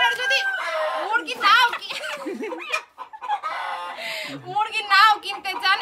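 Big, large-bodied chickens cluck and crow close by in a busy run of overlapping calls, with people talking among them.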